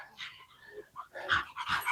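A dog pants and whimpers softly in short, faint bursts from close by, coming back after a walk along a loop trail.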